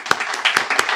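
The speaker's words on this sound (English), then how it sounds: "A round of applause." Brief burst of audience applause at an alumni award celebration, close and lively, with distinct individual claps rising through a continuous patter of many hands.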